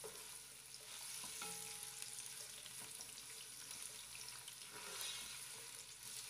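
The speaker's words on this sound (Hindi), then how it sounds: "इसके अंदर हम प्याज ऐड कर लेंगे और मीडियम फ्लेम पे हम अपनी प्याज जो है इसको फ्राई करेंगे।" Sliced onions fry in hot cooking oil over a medium flame, giving a steady, close sizzle that carries on throughout with no talking.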